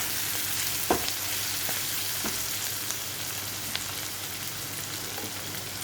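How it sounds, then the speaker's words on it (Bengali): Fenugreek seeds frying in hot oil with salt and turmeric, a fine continuous hiss and crackle, fairly quiet, with a few soft taps of a stirring utensil. "আমি মেথিটাকে একটু ভেজে নিচ্ছি"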